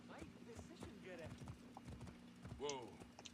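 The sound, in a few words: horse hooves clip-clopping in the video game Assassin's Creed Origins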